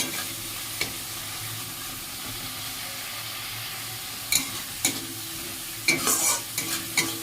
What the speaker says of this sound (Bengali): একটু ভালো করে মশলাটা কষছি